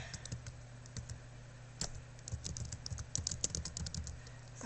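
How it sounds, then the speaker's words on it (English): Computer keyboard typing in a burst of quick, close clicks and keystrokes over a steady low hum, entering a place name into a genealogy catalog search. "We're going to go to Catalog. I'm going to type in Crawford."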